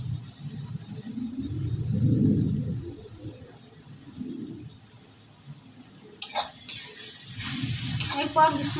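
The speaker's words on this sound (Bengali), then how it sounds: "আদা বাটা, রসুন বাটা, ভালো করে নাড়াচাড়া করে নেব।" Ginger and garlic paste frying in a pan is stirred with a spatula, giving a low scraping swirl and soft sizzle, followed by sharper clinks and a trickle of water toward the end.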